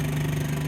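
Coast Guard boat engines idling at a marina, a steady low rumbling hum with constant level and no voices.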